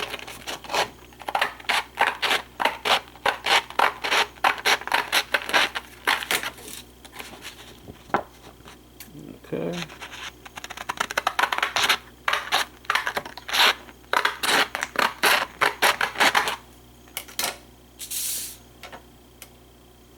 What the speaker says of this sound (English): if you take scissors and cut sandpaper